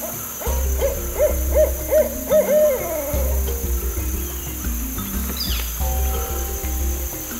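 An owl at Sequoyah National Wildlife Refuge hoots in a quick rhythmic series of clear, close calls, then pauses before fainter hoots return, over a soft bed of insect and night ambience.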